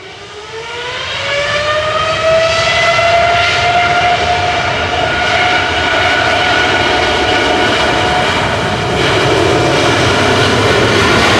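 At Manchester Airport, an airplane engine builds into a loud, sustained roar with a rising whine settling into a steady tone, close and dominating, with no talk.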